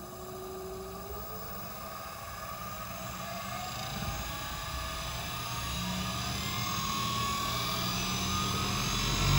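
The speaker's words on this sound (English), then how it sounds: "as you can see right here, the motor is starting to turn" A treadmill DC motor on a variable speed controller spins up, its faint electric whine climbing steadily in pitch over a low hum.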